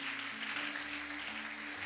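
A church congregation claps and cheers for Jesus during a sermon, a dense, steady burst of applause from many hands filling the short moment.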